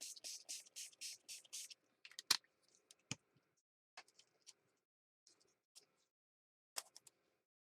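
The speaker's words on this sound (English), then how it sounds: "I'm going to go ahead and spray this side just a little bit" A hand pump sprayer spritzes a glittered journal page in about seven quick, soft bursts, followed by scattered light clicks and taps of handling in a quiet room.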